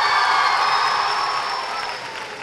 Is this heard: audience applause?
yes